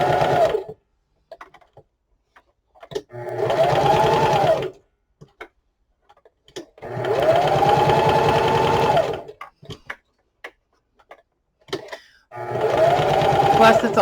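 A loud foot-pedal sewing machine stitches in three bursts of rapid mechanical whirring with clicks and pauses between runs.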